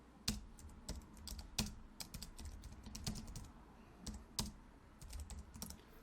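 Typing on a computer keyboard, a quiet, irregular patter of key clicks heard close up and alone.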